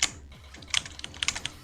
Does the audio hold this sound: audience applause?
no